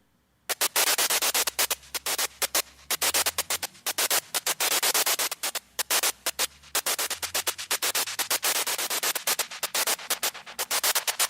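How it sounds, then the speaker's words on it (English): Choppy bursts of white noise stutter in a fast breakbeat rhythm, loud and gated, with a low hum sliding underneath. "let's just hear the sound. Here we go with White Noise Breakbeat audio."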